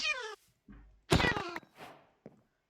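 A cat in the Minecraft video game meows several times in short separate bursts, close and clear, with a dull thunk between calls.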